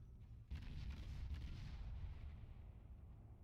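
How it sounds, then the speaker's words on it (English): Ship main guns fire in the naval combat game World of Warships from a Soviet destroyer, the Kiev, as a deep booming blast with a rumbling tail, heard alone. "And just continuing to fire the guns as they are ready"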